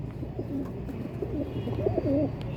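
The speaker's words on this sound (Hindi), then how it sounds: "कबूतर खिलाओ" Soft, low pigeon coos repeat close by, a few rolling calls over a light background murmur.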